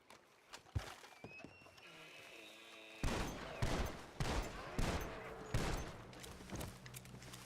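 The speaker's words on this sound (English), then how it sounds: "Or that might be their shooting range from what it looks like." Gunfire at a shooting range in a Western roleplay video game: a few loud, sharp shots in an irregular sequence after a quieter stretch of faint knocks.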